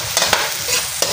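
Garlic, onion and ginger sauté in a pan for goat kaldereta, a dense close sizzle broken by a couple of quick spatula scrapes.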